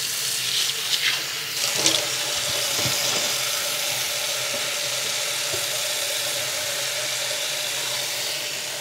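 Water runs steadily from a tap while fresh herbs for Persian ash soup are rinsed in a sink, a continuous hissing splash with a few clunks and handling sounds early on.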